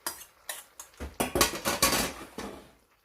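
Dry pasta dropping and clattering into a pan of tomato sauce with mussels, a string of sharp close knocks and scrapes against the pan, with no talking.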